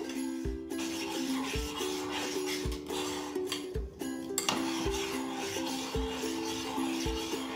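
Sugar stirred into hot milk in a pan makes a regular rhythmic scraping, the spoon knocking the pan about once a second in a steady loop, close and continuous.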